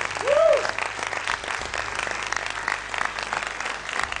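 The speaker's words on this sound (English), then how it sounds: "Ladies and gentlemen, please give a round of applause to Mr. Orokzai." Audience applause at an Afghan cinema event, a steady wash of clapping from a crowd with a brief whistle near the start and murmuring voices underneath.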